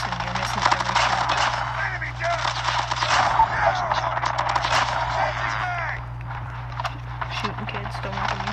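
Rapid automatic gunfire crackles through a Call of Duty Mobile match, dense bursts of shots running almost continuously under a steady game hum while a player talks over it.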